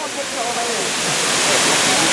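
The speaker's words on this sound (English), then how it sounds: "you got to take a look at this waterfalls. It's wicked." Kintampo waterfall in Ghana roars as a loud, steady broadband rush of falling water that swells slightly over the couple of seconds, with faint voices underneath.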